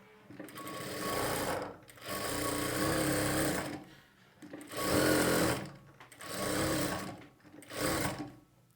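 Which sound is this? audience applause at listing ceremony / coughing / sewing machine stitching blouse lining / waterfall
sewing machine stitching blouse lining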